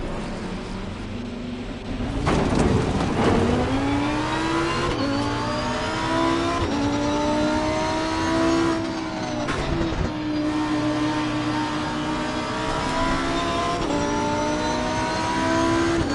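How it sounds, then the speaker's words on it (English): Lamborghini race car in Assetto Corsa Competizione, its engine revving loudly and climbing through the gears as it draws near, with repeated rising whines and brief shifts, no talking. "car is approaching. Watch out."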